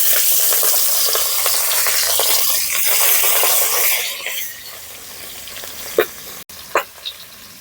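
Rohu fish head sizzling in hot oil in a pan, a steady loud frying hiss that fades partway through, followed by a few sharp pops and spatters.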